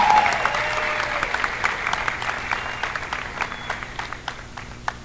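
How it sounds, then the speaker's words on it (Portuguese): Applause at the opening ceremony of the 6th Freemind International Congress in 2019: a crowd claps loudly at first, then the clapping thins out and trails off into scattered individual claps. "Uma salva de palmas para esse coreógrafo maravilhoso."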